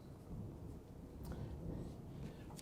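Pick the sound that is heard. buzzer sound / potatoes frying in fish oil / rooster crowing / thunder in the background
thunder in the background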